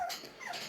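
A young dog gives a soft, high whimpering cry that wavers briefly, faint and plaintive, with no voices around it.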